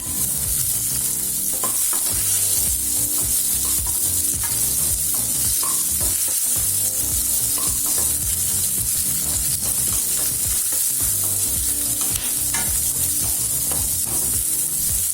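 Two large onions sizzle in hot oil alongside browned urad dal while a spoon scrapes and stirs them steadily, a loud continuous frying hiss that lasts throughout with regular stirring clatter and no speech.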